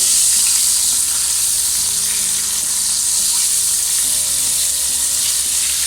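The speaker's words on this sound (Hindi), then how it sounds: "कि डीप फ्राई हो रही है फ़िश, और बहुत बेहतरीन बनती है" Fish deep frying in hot oil gives a loud, dense, unbroken sizzle and bubbling hiss, close by and steady throughout, with no speech.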